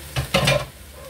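Shredded vegetables for Bicol Express land in a hot pan and are stirred, giving a few short, close sizzling bursts that fade quickly into quiet.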